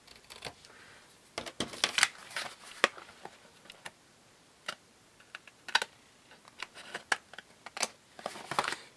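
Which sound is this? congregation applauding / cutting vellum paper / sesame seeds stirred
cutting vellum paper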